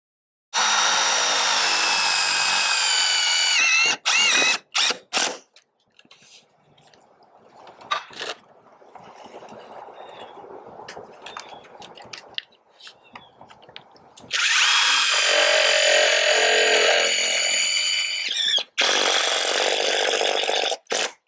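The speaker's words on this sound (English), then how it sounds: "So what I'm doing is I'm putting these lag screws wherever there's blocking or nailing or a rafter." A power drill drives lag screws through a fiberglass gutter into the rafters and blocking, whining loudly in two long runs separated by brief stops and a quieter stretch of handling noise.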